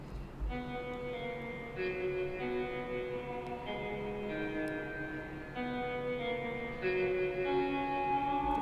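A duplicated electric guitar line with heavy effects and pitch bends in a post-rock piece, playing a sequence of shimmering sustained notes, steady and moderately loud with no voices.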